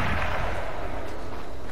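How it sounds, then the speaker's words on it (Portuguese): Dense gunfire and booming blasts from the battle royale video game H1Z1 merge into a loud, continuous roar that runs the whole time without clear gaps between shots. "Olha o som dos tiros, cara."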